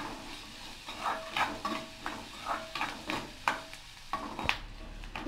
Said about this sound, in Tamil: வெங்காயத்தை போட்டு வெங்காயம் வந்து நல்லா வதங்கட்டும்.